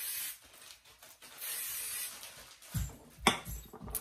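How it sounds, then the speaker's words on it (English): Hairspray hisses from an aerosol can onto braided hair in a few short soft bursts, close and fairly quiet, followed by a couple of light handling clicks. "give it a spray with our Spray and Play hairspray"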